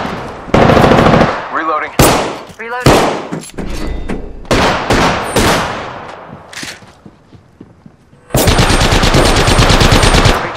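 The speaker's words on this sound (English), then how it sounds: "Taking fire. And yeah, they're hitting me." Automatic gunfire in the video game Apex Legends, loud rapid bursts of machine-gun fire in several volleys, with a long sustained burst at the end and a voice speaking between shots.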